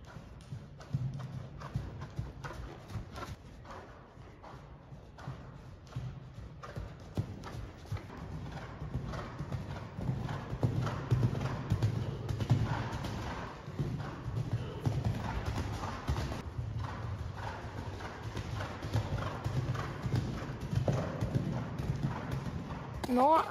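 A ridden horse walks outside a riding hall after being trotted, its hooves clip-clopping in a steady rhythm on firm ground throughout, with a person talking over the steps.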